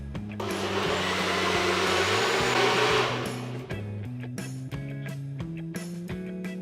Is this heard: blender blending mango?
yes